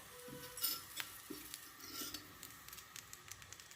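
Pigeon peas roasting in a little oil, soft sizzling under faint scrapes and clinks of a spoon stirring the pan, quiet and close with no talking.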